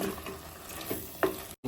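Tamarind leaves stirred through chicken curry in a pan, a low sizzle with a few soft scraping strokes of a spoon, close and fairly quiet, ending abruptly.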